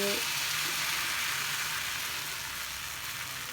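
Punjabi jaggery and wheat-flour pooda batter sizzles steadily on an iron tawa, a close, continuous hiss with no voices over it.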